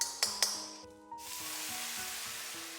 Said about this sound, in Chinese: 炒的时候，我们用铲子不停地给它搅动，